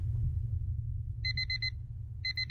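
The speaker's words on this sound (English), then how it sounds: "The alarm goes off and I grudgingly reach out and press the snooze button." A digital alarm clock beeping in two quick bursts of rapid high-pitched pulses over a low steady hum.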